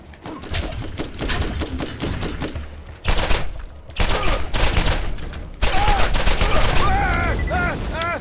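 Rapid gunfire bursts from a shooter game, loud and continuous, with dense crackling shots, brief pauses and a voice talking over parts of it.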